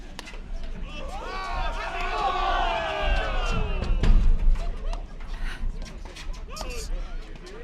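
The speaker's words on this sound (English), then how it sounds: "You can hear the crowd." A table tennis crowd at a men's semi-final of the Philadelphia Open cheers and shouts steadily for several seconds, with a louder swell near the middle and commentators' voices mixed in throughout.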